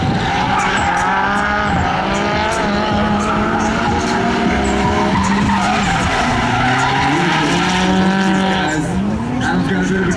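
A Nissan 370Z Nismo drifts in a tandem battle with an e-brake entry, sustained loud tire squeal and skidding layered over a howling, shifting engine note throughout, with commentary talk running underneath.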